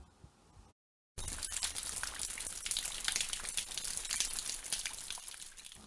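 Steady rain with a dense hiss of drops falling continuously and evenly, loud and close, after a brief moment of silence at the start.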